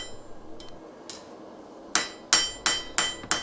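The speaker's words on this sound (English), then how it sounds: "move over to the blade side of the knife and hammer in the bevels" Metal hammer blows ring out on an anvil while forging a knife's blade bevels, a couple of light taps followed by five sharp, evenly spaced strikes with bright ringing decay.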